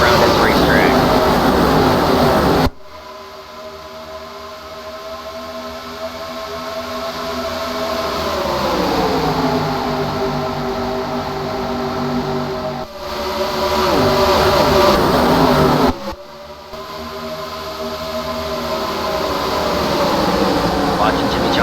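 Race cars in the 2008 MG Cup Series at Kentucky Speedway roaring past: loud engine drones rising and falling in pitch as cars fly by, with several abrupt breaks, and a commentator talking over the noise.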